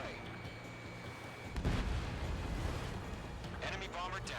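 A missile launches and explodes in a flight combat video game, a loud burst with rumbling low end that lingers, then further crackling blasts, over a steady engine drone with radio voices around it.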